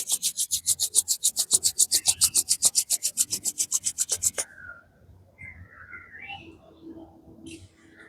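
Palms rub briskly together during a seated exercise routine, making about twenty quick, rhythmic, close swishes that stop abruptly and leave faint room sound.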